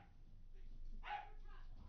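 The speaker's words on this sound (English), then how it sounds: "Sorry about the barking." A dog barks indoors: one short, faint bark stands out near the middle over a quiet, murmuring room background.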